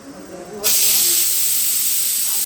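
Steady loud hiss of steam venting from a pot of rice cooking on a home stove, starting abruptly and holding constant after a brief quieter moment.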